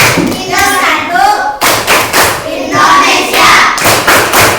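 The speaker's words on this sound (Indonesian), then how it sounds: "Coba kalau biar cepat hafal pakai tepuk tangan. Coba tepuk negara-negara ASEAN." A class of students claps their hands in quick rhythmic bursts while chanting together to memorize ASEAN countries, loud and close, with short pauses between phrases.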